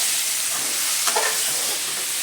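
Prawns fry in a pan with a steady, close sizzle that stays even throughout, broken once by a brief stir or clink.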